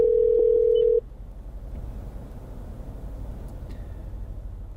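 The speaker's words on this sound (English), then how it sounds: "Calling the home number for Toyota of Wallingford." A Toyota Entune in-car system places a hands-free call: a steady dial tone holds for about a second and cuts off, then a quiet electronic hiss continues over a faint low cabin rumble.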